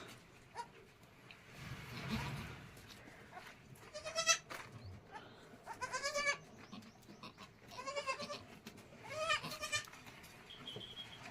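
Newborn goat kids bleat in a goat shed, with several high, wavering cries coming in bursts through the clip over a low background rumble.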